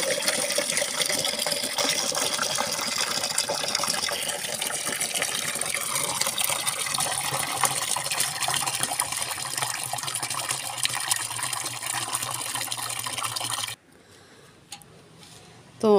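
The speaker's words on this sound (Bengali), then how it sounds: "চলো এবার আমি কোন কোন গাছে পানি দেই তোমাদের দেখাচ্ছি" Water splashes steadily onto rooftop garden plants and soil for most of the clip, a close continuous gushing spray that cuts off abruptly near the end, leaving near silence with a faint clink.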